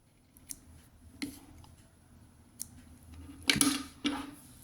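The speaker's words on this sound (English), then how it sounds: "Snip them neatly." Scissors make small, crisp snips on thread while a nativity scene card is finished, several quiet clicks spread out in a quiet room, ending in a brighter, louder double cut.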